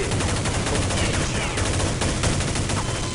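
Rapid gunfire from a Kriss SV submachine gun in a Counter-Strike mod game, loud, dense continuous bursts filling the whole stretch with game noise.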